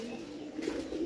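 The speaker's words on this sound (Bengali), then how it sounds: "এই দেখুন আমার বাড়িতে কত কবুতর, কি আওয়াজ দেখুন" Pigeons on a home rooftop give a soft, low cooing, one brief murmuring phrase that is faint and slightly distant.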